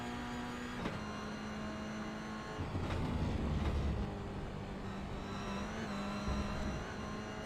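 Toyota GR86 race car engine held at full throttle through a long right-hander in a racing game, a steady sustained drone with a shifting low rumble as the car runs over the curbs.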